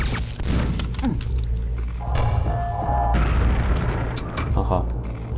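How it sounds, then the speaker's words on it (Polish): A deep booming blast and rumbling explosions in the video game Quake dominate throughout, with a shorter burst midway and some background game noise; no clear speech. "Wybuchło prosto w ryj."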